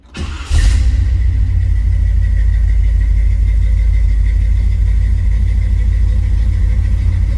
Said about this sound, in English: Push button start right here.